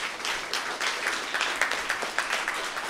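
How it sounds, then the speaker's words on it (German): Applause from the audience at a youth hackathon closing presentation in Cologne, brief dense clapping with individual claps popping out near the front. "Dafür bitte einmal einen großen Applaus."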